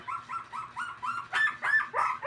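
A small dog whimpers and yips in a rapid run of short, high cries, close by and growing slightly louder toward the end.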